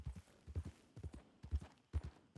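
Horse hooves clip-clop in Red Dead Redemption 2, a riderless horse wandering near the stables, with steady paired hoof strikes sounding close and clear.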